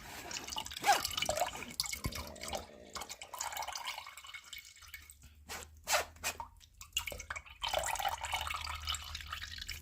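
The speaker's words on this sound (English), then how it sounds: "See, coming through the strainer right there." Homemade sorrel drink strains through a strainer with soft, irregular drips and trickling liquid, faint and close, with occasional handling noises in between.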